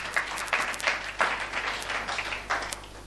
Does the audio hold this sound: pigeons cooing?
no